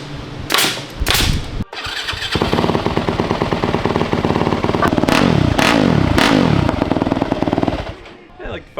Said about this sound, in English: Let's get this thing warmed up for a little snow action